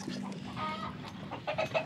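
Chickens cluck and murmur nearby, a busy chorus of soft clucks with a few higher calls rising toward the end.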